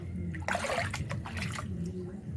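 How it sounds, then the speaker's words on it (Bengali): Floodwater sloshes and splashes inside a house, loudest in a burst near the start and then a lighter watery churn, while a person talks over it. "দেখো কিরম জল জলে থাপর থাপর করছে"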